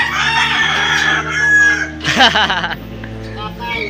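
A rooster crows loudly nearby while chickens cluck, with a busy mix of farmyard bird calls throughout.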